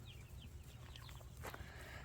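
Chickens on a small farm with a chicken tractor, clucking softly and intermittently over a steady low rumble of background noise.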